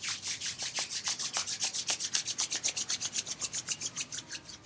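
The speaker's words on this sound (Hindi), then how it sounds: "और फिर धीरे से अपने हाथों को रब करें" Palms rubbed briskly together during a pranayama yoga practice, a fast regular rasping swish repeating about six times a second, close and clear with no talk.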